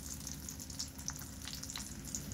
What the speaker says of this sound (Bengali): এখন তেল গরম হয়ে গেছে, ডিম ভাজিটা শুরু করব।